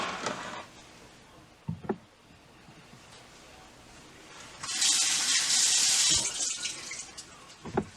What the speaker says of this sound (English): you're going to fill them back up with your filtered water